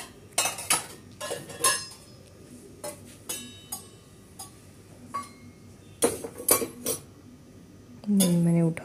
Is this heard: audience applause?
no